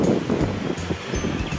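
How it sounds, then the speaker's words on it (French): Wind blows along the Canal du Midi, a steady rushing roar with rustling from the sheltering trees, near and fairly loud and buffeting the microphone. "Il y a toujours du vent, mais je suis protégé du vent par les arbres."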